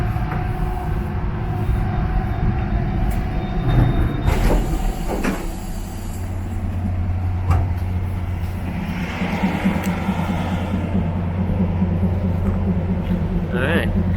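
A train from Taipei slows and settles into Xincheng Station in Taiwan, with low rumbling, brakes hissing and clunks of doors or couplings, and a brief voice in the background.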